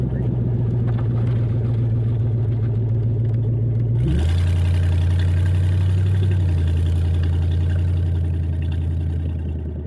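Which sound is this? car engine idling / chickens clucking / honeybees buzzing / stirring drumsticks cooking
car engine idling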